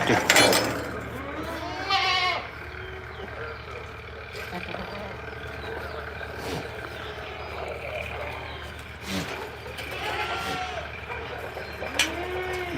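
Goats, including young kids, bleat in a goat-rearing shed, with several wavering calls scattered across the span, close by, over a low steady hum and a person talking.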